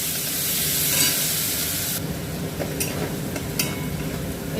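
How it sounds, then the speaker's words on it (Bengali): Chicken is stir-fried with beans, carrots and green chilli for fried rice, a loud sizzle that drops sharply halfway, followed by brief scraping and clattering stirring strokes over a quieter hiss. "এখন আমি বিনস, গাজর আর একটু কাঁচা লঙ্কা দিয়ে দুটা ভাজবো।"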